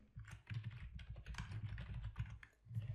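Code being typed on a computer keyboard, a quick uneven run of close, crisp key clicks and clacks with brief pauses, quiet and alone without speech.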